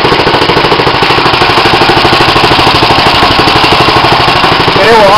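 A cold-started Tecumseh 6 hp engine on a Murray Explorer go-kart idles steadily, a loud, close, chugging putter with an even rapid beat throughout.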